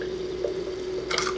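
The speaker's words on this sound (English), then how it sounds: "I've been bubbling some distilled water for," Distilled water bubbling inside a hydrogen gas machine, version 4.0, giving a steady close trickling fizz under a constant hum, with a brief louder gurgle near the end.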